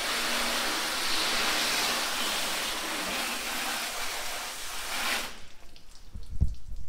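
A hose sprays water onto a square-body Chevrolet truck, a loud, close, steady hiss of spray that cuts off abruptly near the end, leaving a few faint drips and knocks.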